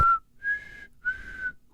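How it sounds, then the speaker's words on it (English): Three clear whistled notes from a person, each a steady tone, the first short and the next two longer and held, with brief pauses between them and no talk. "I don't know how to whistle."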